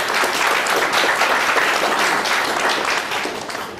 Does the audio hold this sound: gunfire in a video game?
no